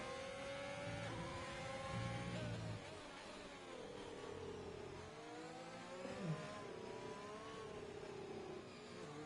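A Ferrari Formula 1 car chasing a Mercedes at Interlagos in an F1 video game, its engine whining and revving continuously through upshifts and downshifts, steady and moderately loud.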